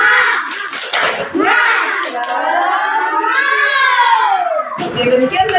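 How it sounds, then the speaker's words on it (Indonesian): A primary school class of children loudly performs the 'tepuk semangat' clapping chant together, sharp rhythmic hand claps bursting at the start and end around a sustained sung group chant. "Sebelum kita mengakhiri pelajaran kita hari ini, kita tepuk semangat dulu yuk."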